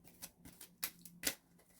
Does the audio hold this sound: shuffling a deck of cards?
yes